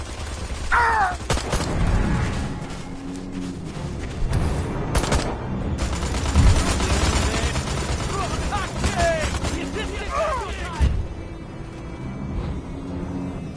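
Bursts of video game gunfire crackle through a busy mix of game sounds and voices, with rapid shots scattered across the stretch and a few heavier booms standing out.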